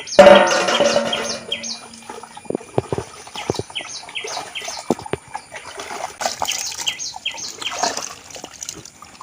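Intermittent trickling and dribbling of rinse water draining from a pot with small splashes, while birds chirp repeatedly in the background; no talking.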